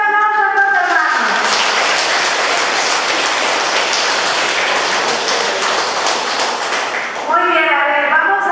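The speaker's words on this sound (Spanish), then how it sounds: "vamos a darle un fuerte aplauso a los hermanos" Loud, dense applause from a gathering of brothers and sisters sweeps in after someone speaking Spanish and fills about six seconds before his voice returns over the tail end.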